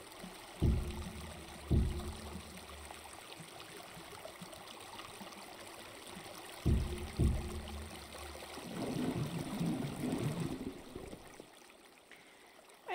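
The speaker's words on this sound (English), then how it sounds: "I don't know if I like that waterfall or not." In the Creativerse video game, a waterfall makes a steady, soft rushing wash that grows fuller toward the end. A few dull thuds break into it.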